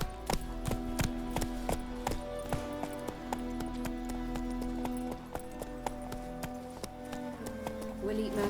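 Roach, Geralt's horse in The Witcher 3, clops along at a slow walk with crisp, fairly close hoofbeats in a loose irregular rhythm, soft and quiet throughout.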